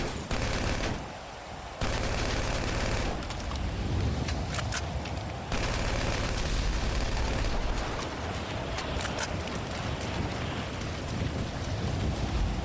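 Rapid bursts of video game gunfire crackle loudly and closely, broken by brief pauses, over a continuous rushing noise of wind or engine, with no talking.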